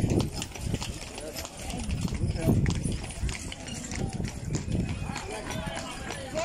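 Horse hooves clip-clop at a trotting pace on the ground at the Giza pyramids, a steady near rhythm running through the whole stretch with children and adults talking over it and outdoor background noise.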